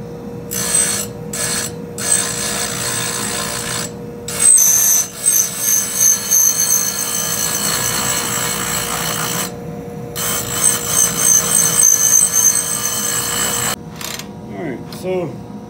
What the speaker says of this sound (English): now let's grind this down.